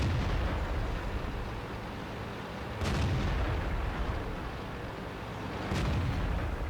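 Two heavy tank cannon shots in World of Tanks, about three seconds apart, each a sharp loud blast over a constant low battlefield rumble, with no talking.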